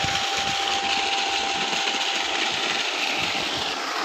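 An electric motor, running somewhat warm and louder than usual, gives a steady close hum with a broad whir and a thin constant whine, unbroken throughout.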